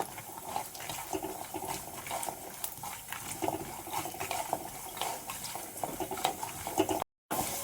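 Peanuts roast in a pan with mustard seeds, giving a faint, continuous crackling hiss throughout, with a brief dropout near the end and no voices.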